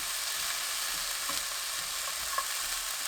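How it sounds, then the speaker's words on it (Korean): Potato, onion and minced garlic stir-fry in a spoonful of oil in a pot over medium heat, a steady close sizzle with faint stirring and no talk. "냄비에 식용유 1큰술, 다진 마늘 반 큰술, 감자, 양파 넣고 중불로 2분 볶습니다."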